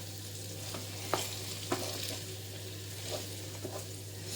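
Food sizzles steadily in a frying pan, seasoned with black pepper, while a spoon stirs it with a few soft scraping knocks against the pan, close and quiet with a low background hum.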